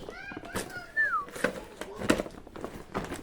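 A kitten gives a thin, high-pitched meow that rises and falls, followed by a few softer mews, with a person talking nearby.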